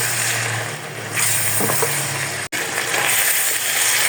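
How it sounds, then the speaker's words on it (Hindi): Garlic ginger paste frying with minced meat in a pan, giving a steady, close sizzle with faint stirring scrapes and a brief dropout midway. "इसको भी हम कीमे में अच्छी तरह फ्राई कर लेंगे।"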